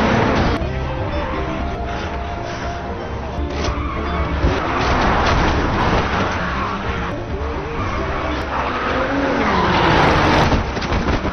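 A car is driven recklessly in a zombie movie scene: a loud, continuous engine roar with screeching tires and skidding runs throughout, close and intense.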